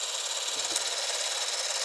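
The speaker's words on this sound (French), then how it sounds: "il y a un petit moteur qui va faire tourner ma bobine de film et la faire défiler" A small motor inside a Super 8 film camera spins the film reel, making a steady, even mechanical whir with a fine high-pitched hiss that runs unbroken from start to finish.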